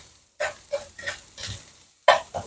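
Spinach with small fish browning in a frying pan, with a series of short sizzling, stirring scrapes in separate bursts and quiet gaps between them, close by.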